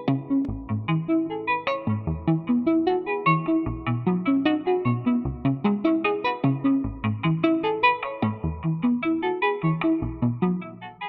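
Omnisphere synthesizer parts from a remix built in Studio One, a continuous melodic passage of sustained, harmonically rich tones with a rhythmic pulsing pattern, played alone without any voice.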